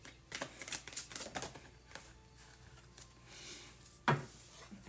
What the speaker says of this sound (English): I'm gonna just shuffle